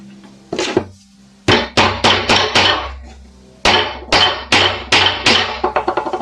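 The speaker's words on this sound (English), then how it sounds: "I think I'm going to just get the other nail started here also" A hammer drives a nail into wood in quick bursts of sharp, ringing strikes, close and loud, in clusters of three to five blows with short pauses between them and no talking.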